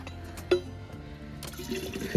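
Water gurgles and splashes as a bottle fills at a pilgrim water station on the Camino de Santiago near the La Rioja–Burgos line, with a brief clink, close by.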